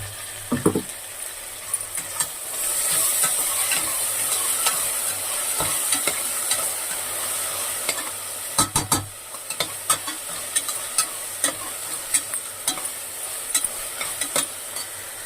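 Spinach paste with ginger paste frying in a pan, a continuous close sizzle under repeated stirring scrapes and clinks of a spoon, louder as the paste first hits the hot pan.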